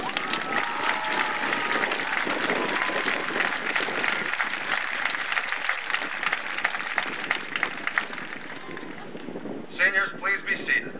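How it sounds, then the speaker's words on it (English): An audience at a high school graduation ceremony gives sustained applause for educators, dense clapping filling the hall for about ten seconds before fading as a voice begins speaking. "Please give these outstanding educators a round of applause."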